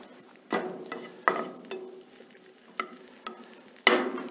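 Bread cubes frying in butter in a pan for cream of tomato soup croutons, with a steady soft sizzle broken by several sharp scraping stir strokes as the pieces are turned, close and alone.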